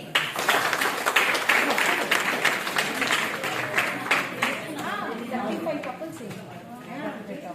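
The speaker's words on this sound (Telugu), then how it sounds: "క్లాప్స్ అండి." An audience at a Vasavi Club women's wing Women's Day celebration breaks into steady, dense clapping that carries on for several seconds, and voices rise through it toward the end.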